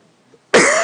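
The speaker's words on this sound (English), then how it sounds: "I need to have a cough" A single sudden cough breaks a near silence, a harsh, loud, close burst from a man with a flu, starting abruptly and holding briefly to the end.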